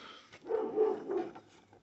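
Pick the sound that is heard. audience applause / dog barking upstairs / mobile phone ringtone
dog barking upstairs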